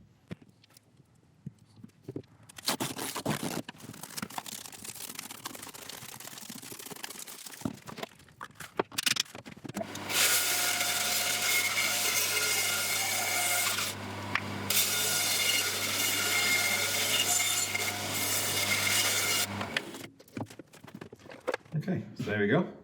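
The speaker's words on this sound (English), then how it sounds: "then we're going to take it across the bandsaw, cut it out" A bandsaw cuts through a wood burl blank in a loud, continuous rasping whine lasting about ten seconds. Shorter bursts of handling and scraping come before and after it, and a person talks between them.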